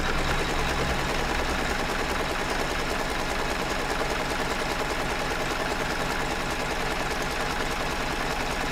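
An embroidery sewing machine runs steadily throughout, giving a loud, continuous, fast mechanical whir with a rapid needle rhythm and no voices.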